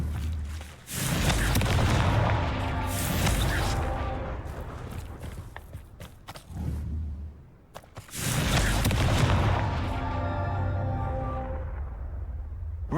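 Confringo blast spell explosions in the Hogwarts Legacy video game: two long, loud, roaring booms, each rumbling for several seconds before fading, with a short lull between them.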